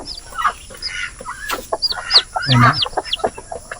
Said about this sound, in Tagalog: Ito Heritage Chicken, Rhode Island Red, native na manok